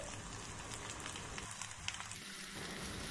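Besan pieces fry on a gas stove, giving a steady, dense oily sizzle with small pops and crackles, close and continuous for the whole stretch.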